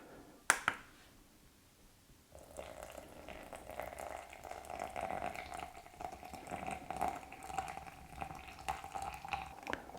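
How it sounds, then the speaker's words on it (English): Hot water poured from a Fellow kettle onto Aeropress coffee grounds makes a steady, soft trickling stream after a sharp click, continuing gently near at hand with no talk. "So for the water, we're going to use a Fellow kettle."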